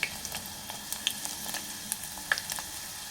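Dried red chillies, two of them, dropped into hot tempering oil for a brinjal tomato curry, giving a soft steady sizzle dotted with sharp little pops and crackles, close by and fairly quiet.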